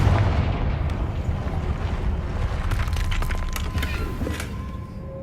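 A Confringo fire blast spell going off in Hogwarts Legacy, a loud sustained rumbling burst with crackling, creaking debris layered over a dense low roar that persists across the whole stretch.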